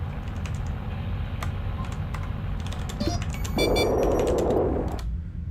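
Fingers tap a computer keyboard to enter commands in the game Duskers, a run of quick, close clicks over a low hum, joined near the end by bright electronic beeps and a brief louder buzzing tone.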